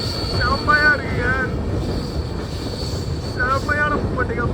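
A train rolls across the new Pamban railway bridge, a continuous rumbling clatter of wheels on rails with repeated squealing tones, while someone talks over it.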